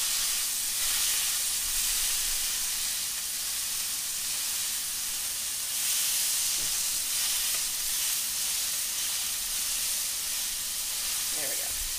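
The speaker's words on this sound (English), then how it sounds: "So when you press down in the pan, you're going to release a little bit of the turkey fat and the bacon fat back into the pan." A turkey burger with bacon fat sizzles steadily in a pan while being pressed down, a continuous close bright hiss of frying fat with slight swells, no talking over it.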